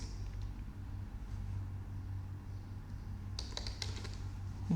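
Typing on a computer keyboard, heard as a few faint isolated clicks early on and then a quick close burst of keystrokes near the end over a low steady hum, with no talk.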